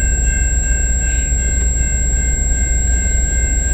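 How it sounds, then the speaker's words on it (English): Rumble of CN train 439 pulling out of London East Yard on the Dundas Subdivision in London, Ontario, a continuous, even low drone at moderate distance with a steady background hiss and no talking. "we got CN 439 heading out of the London Yard."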